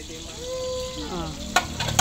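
Garlic sizzles in a hot pan while a Filipino monggo dish is cooked: a steady frying hiss with a brief whistling tone, then sharp crackling bursts near the end, close by.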